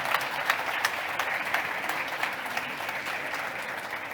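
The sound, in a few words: applause for speaker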